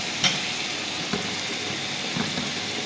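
Ground spices, coriander leaves and tomatoes fry and stir in a pan, a steady close sizzle with a few soft scraping knocks.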